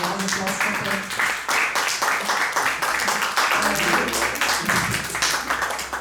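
An audience at a Slovenian language lecture evening claps together in a dense, sustained burst of applause, steady and fairly loud for several seconds, with a voice speaking partway through.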